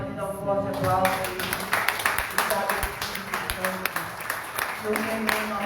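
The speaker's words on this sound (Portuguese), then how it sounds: "Você pode dar um forte aplauso aí." A church congregation applauding, with dense hand clapping that fills the room at moderate loudness and continues steadily under a voice speaking over it.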